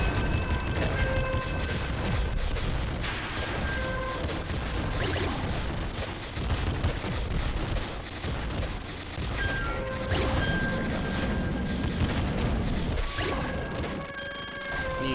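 Boss shooting attack in the video game Nuclear Throne, a dense, continuous barrage of crashing impacts and blasts with short tonal blips scattered through, loud and unbroken for the whole stretch.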